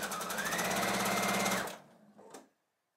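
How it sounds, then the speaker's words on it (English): A sewing machine chain-sews patchwork quilt pieces in one steady, loud, rapid run of stitching that stops abruptly, followed by a brief faint clunk. "you just grab your next piece, line them up, and sew it together"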